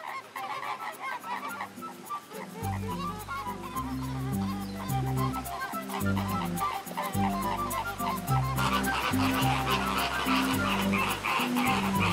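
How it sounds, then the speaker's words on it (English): Pink flamingos squabble in a zoo enclosure, a dense chorus of loud overlapping honking calls that grows busier and louder toward the end, with no talking. "The birds squabble endlessly."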